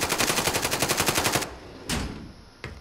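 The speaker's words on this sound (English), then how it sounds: "He's just shooting me from the doorway." Automatic gunfire in Call of Duty: Modern Warfare, a fast even burst of close shots for about a second and a half, followed by two separate single loud shots.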